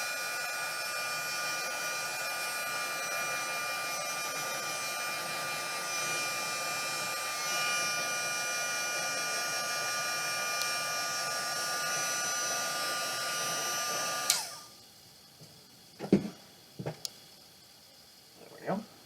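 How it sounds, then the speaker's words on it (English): A heat tool blows a loud, steady hot-air whoosh onto Dollar Tree tinsel stocking decor for about fourteen seconds, then cuts off, leaving a few soft handling sounds. "We're just going to take heat tool here"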